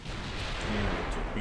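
Naval guns in an Italian 1920s cruiser campaign firing at a destroyer, a dense continuous boom of artillery and explosions rolling through the whole moment, heavy and loud, with a voice talking over it.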